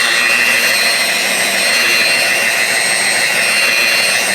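A car polisher spins at about 1900 RPM against a car's paint, giving a loud, steady high-pitched whine with no pauses and nothing else under it.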